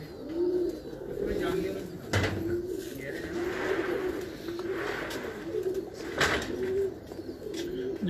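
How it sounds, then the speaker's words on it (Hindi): Several pigeons of prized breeds, such as Prince Kamgar and wild pigeons, coo in soft, low repeated phrases close by. The cooing runs steadily through the whole stretch, with a couple of brief knocks or clatters in between. "बहुत ही ज़बरदस्त कबूतर है जी"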